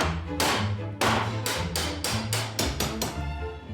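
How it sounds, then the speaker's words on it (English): A hammer strikes rusted hinges on a roughly 100-year-old door, about ten sharp metallic blows landing in a fairly even rhythm, close and moderately loud, with no talking. "But when in doubt, smash it with a hammer."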